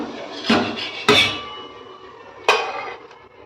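A metal spatula knocks sharply against the pan three times while a mudakathan keerai dosa is flipped, each clack short and close, with a faint sizzle in between and no talk.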